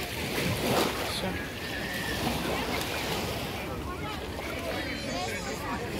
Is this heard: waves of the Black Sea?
yes